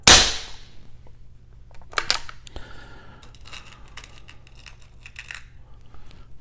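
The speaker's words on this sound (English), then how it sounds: "we're going to fire a couple of shots here" An air rifle set up for hunter field target shooting fires one sharp, loud crack at the start, followed by scattered quieter mechanical clicks and handling noises.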